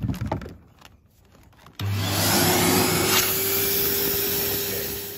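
Vacuum cleaner switches on after a quiet moment and roars steadily, sucking debris out of a blocked Bosch/Siemens dishwasher drain pipe, loud and close with a constant hum throughout.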